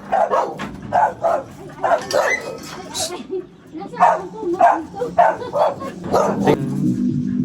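Several dogs tied up at a house in the Philippines bark and yip in repeated bursts, fairly close, with people talking over and between the barks.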